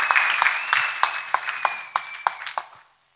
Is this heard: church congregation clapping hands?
yes